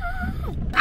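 A dog gives a brief, high, wavering whimper and yip close by, ending in a sharper burst of noise.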